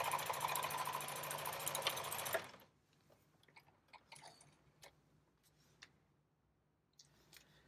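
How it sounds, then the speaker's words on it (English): A Janome HD1000BE heavy-duty sewing machine stitches through thick layers of seat material in a fast, continuous mechanical whir for about two seconds, then stops, leaving faint ticks and handling noises. "machine is going to easily be able to sew through that."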